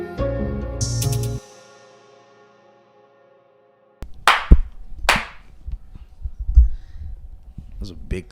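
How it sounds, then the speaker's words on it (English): A single loud hand clap on a podcast set: one sharp smack ringing out and then dropping into silence, followed later by people talking with a few brief percussive knocks. "That was a big clap."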